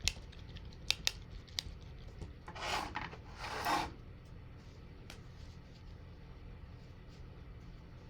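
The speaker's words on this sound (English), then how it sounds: "And now I will wash my brush." A paint brush being washed in water after acrylic painting gives two soft swishing, scrubbing bursts midway, quiet and close, with a few faint clicks around them.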